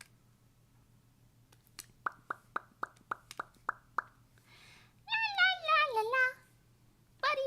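A run of short, sharp plopping clicks is followed by a drawn-out, wavering meow-like cry over faint background hum, probably a voice imitating a cat.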